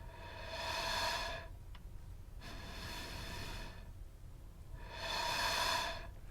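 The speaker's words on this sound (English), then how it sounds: "So we can hear a model chest cavity breathing" Slow mechanical breathing from a model chest cavity, broad airy whooshes rising and falling in a steady rhythm, three long breaths with pauses between, close and moderately loud.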